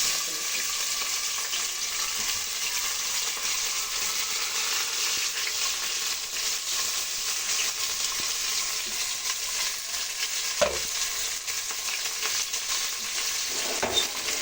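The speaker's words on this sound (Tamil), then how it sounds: "நல்லா கோல்டன் கலர் வர வரைக்கும் நல்லா ஃப்ரை பண்ணணும்." Chopped onions fry in hot oil with fennel seeds, a constant close sizzle and crackle that runs unbroken for the whole stretch, with an occasional soft stir and no talking.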